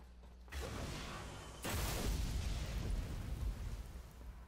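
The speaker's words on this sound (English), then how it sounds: "Whose Nova Bomb was that?" A Nova Bomb detonating in Destiny, a sudden broadband blast about a second and a half in that swells into a sustained roaring rumble over low game ambience, with no talk.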